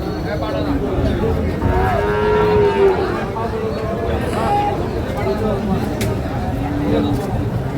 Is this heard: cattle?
yes